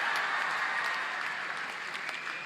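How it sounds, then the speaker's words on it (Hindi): Steady audience applause at a ceremony honouring Olympic hockey players, a dense wash of many hands clapping, moderately loud and continuous. "जोरदार तालियां इनके लिए।"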